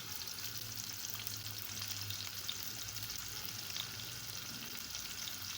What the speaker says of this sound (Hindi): 1 कप मैंने ऑयल का डाल लिया और साथ में मैंने प्याज डाल दिया।